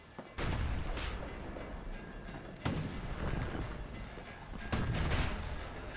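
Cannon fire in the video game Bastion: three loud booming blasts roughly two seconds apart, each with a sharp onset and a long rumbling decay over steady game background noise.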